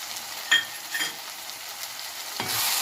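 Chili powder and ground spices stirred into frying tomatoes in a pan for Bombay duck gravy: a soft sizzle with a few scraping strokes of a spoon, close and without talk.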